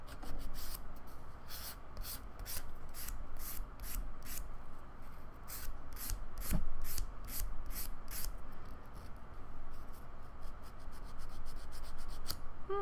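Nails are buffed during a dip manicure: a close, rhythmic rubbing with quick regular strokes repeating steadily throughout.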